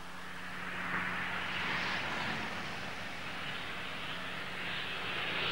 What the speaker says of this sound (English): A delighted Nigel and his wife, Roseanne, board their plane bound for Florida with yet another magnificent trophy to add to their collection.